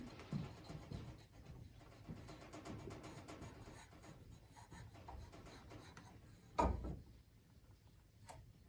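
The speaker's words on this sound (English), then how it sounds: "and erase the ones I don't want." A pencil eraser rubs out lines during a boatbuilding class: soft, quick scratchy strokes, faint and close, with one brief louder scrape near the end.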